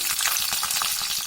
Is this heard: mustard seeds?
yes